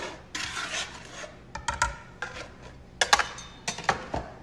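Dry pizza dough ingredients, including basil, being stirred in a bowl for a plant-based pizza, giving irregular scraping and clinking bursts of utensil against the bowl, close and moderately loud, with no talking.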